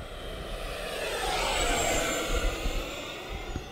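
A small 50mm electric ducted fan RC jet modelled on the L-39 Albatros makes a close pass over a runway, its loud rushing fan whine swelling and fading, with no talking.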